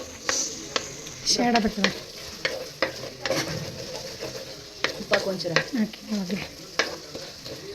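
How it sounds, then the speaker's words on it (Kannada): Tomato and garlic paste fries in oil and is stirred in a pan, with a close, crackling sizzle and repeated scraping strokes, while a person talks over it. "ಟೊಮೊಟೊನ ಹಾಕ್ಕೊಂಡು ಅದ್ರ ಜೊತೆ ಫ್ರೈ ಮಾಡ್ಕೊಂಡು ಕರೆಕ್ಟ್ ಹಾಗೆ ಎಣ್ಣೆಗೆ ಚೆನ್ನಾಗಿ ಬೇಯಿಸ್ಕೋಬೇಕು"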